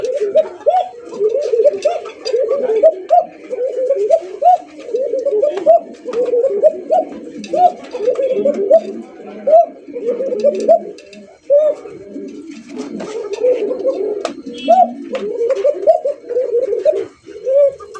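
Pigeons cooing close by in a loft where birds are sitting on eggs, a continuous overlapping chorus of throaty, rhythmic coos with brief pauses, loud and without talk.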